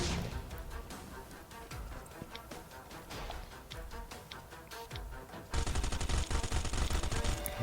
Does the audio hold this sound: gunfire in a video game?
yes